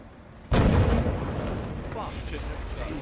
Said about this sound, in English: Explosion going off that close to you.